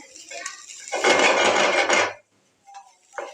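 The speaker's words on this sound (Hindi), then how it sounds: "अब शिमला मिर्च ऐड की, इसको अच्छे से मिक्स करेंगे।" Capsicum is tossed and mixed in a cooking pan, giving a loud burst of sizzling and scraping for about a second, then a pause and a few faint clinks of a utensil against the pan.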